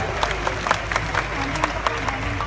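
Audience at a public gathering for Semarang's 470th city anniversary claps steadily throughout, a dense even patter of many hands with a few sharper claps standing out and some murmuring beneath.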